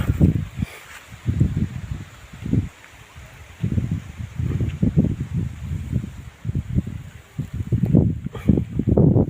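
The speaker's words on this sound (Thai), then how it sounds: "มาสวนลมก็พัดแรงนะครับ" Strong wind blowing through an orchard, heavy rumbling gusts buffeting the microphone in irregular bursts over a faint background hiss of stirring leaves.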